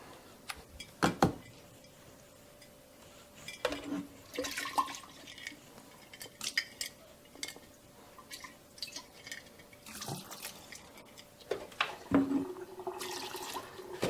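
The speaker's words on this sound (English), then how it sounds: "Now I'm going to finish rinsing out my jar." Water running and splashing while a jar is rinsed out, heard as intermittent gushes and drips with pauses between, fairly close and with no one talking.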